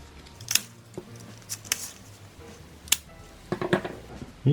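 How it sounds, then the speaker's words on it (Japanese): Scissors make several quiet, crisp snips through drawing paper at irregular intervals, close up, with soft handling noises between the cuts. "ここをハサミで切ってください"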